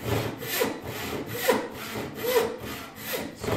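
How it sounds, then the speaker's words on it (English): A hand saw cuts through a walnut axe wedge in steady back-and-forth strokes, about seven rasping passes, close and moderately loud with no talk. "Since I've got a saw cut, I'm just letting this saw do the work."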